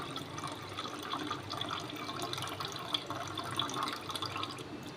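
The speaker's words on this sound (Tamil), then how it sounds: "இப்போ அரைச்சதையும் ஃபில்டர் பண்ணிக்கலாம்" Blended carrot juice strains through a filter, giving a soft steady trickle with occasional drips, quiet and close with no talking.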